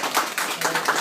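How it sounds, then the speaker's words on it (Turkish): Crowd clapping at a Malinois dog contest trophy ceremony in Turkey, a quick burst of several irregular close claps lasting about a second. "Arkadaşlar, kupadan arkadaşlar hep beraber alkışlayalım."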